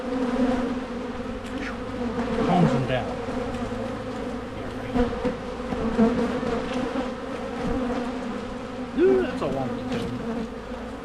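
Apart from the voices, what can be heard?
swarming bees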